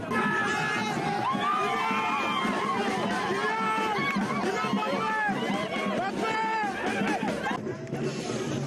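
A huge crowd of fans packs Yaoundé's international airport, a loud dense roar of many overlapping shouting and chattering voices, excited calls rising throughout, close and continuous without a break.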